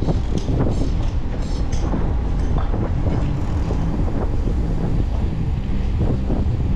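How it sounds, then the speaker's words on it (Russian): Outdoors on a December walk in Adler, Sochi, strong wind buffets the microphone with continuous loud rumbling noise throughout. "Дует ветер."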